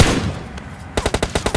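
An MK-14 rifle fires a rapid spray in PUBG Lite: about ten loud, evenly spaced shots in a quick burst, following a short lull of game ambience.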